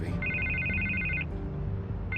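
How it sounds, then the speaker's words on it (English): A telephone rings in a Batman video game, two loud electronic trill bursts with a short gap between them, over a low ambient game background. "I can't get the phone to stop ringing."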